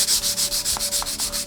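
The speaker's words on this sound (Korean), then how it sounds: "결방향하고 똑같이 사포를 밀어주시면 됩니다" 220-grit sandpaper rubs back and forth along the grain of a wooden cutting board in quick, even strokes, about a dozen rhythmic scratchy passes, close up.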